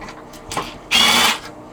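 A power tool whirs briefly against a screw on a lawnmower engine, with a short faint buzz and then one louder, steady spin of about half a second, heard up close.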